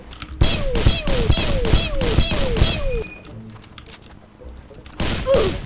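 Gunfire in a Roblox D-Day battle game: a rapid burst of about six loud close shots with ringing metallic tails, a quieter pause with distant noises, then another nearby shot.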